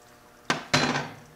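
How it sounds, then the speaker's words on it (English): A lid set back onto a cooking pot gives two quick, close metallic clanks, the second slightly longer and ringing briefly, in an otherwise quiet kitchen. "Put the lid back on."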